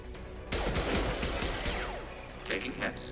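Gunfire in a Mass Effect 2 combat scene breaks out in a dense, loud burst of shots and impacts, then tails off into scattered shots, with a voice speaking over the fighting.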